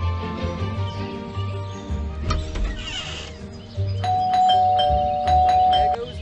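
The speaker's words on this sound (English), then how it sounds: "There goes that stupid bell again." A bell rings in the video game Scary Teacher 3D, giving a bright ding-dong chime with sustained ringing tones over a low game-music bed. There is no talk.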